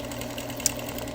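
A sewing machine stitches the outer border of a quilt, humming in a steady, even run at low volume, with one faint click partway through.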